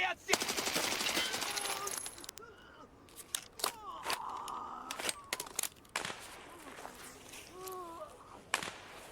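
Rapid bursts of automatic gunfire crackle at first, then scattered sharp single shots and clatter follow over a quiet background, in the video game Escape from Tarkov.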